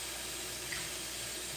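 A water tap runs steadily into a sink as it fills, a constant, fairly quiet hiss and trickle heard alone.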